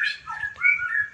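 A white-rumped shama in a breeding cage gives a brief, clear series of chirps and whistled notes, close and alone against a quiet background.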